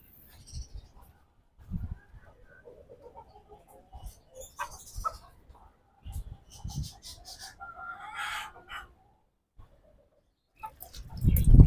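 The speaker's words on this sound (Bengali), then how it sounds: "চলেন গেছে আমরা বাইরের মুরগিগুলোকে খাওয়ান পানি দিয়ে দিই" Backyard chickens, including local desi hens, cluck and call in scattered bursts during feeding, with a few louder squawks and soft, intermittent human voices nearby.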